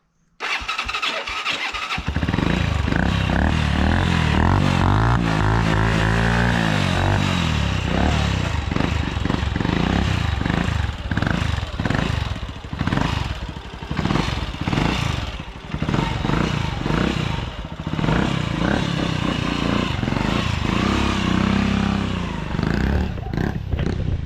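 A motorcycle engine starts up and revs repeatedly, the exhaust roaring loud and close with rising and falling throttle bursts.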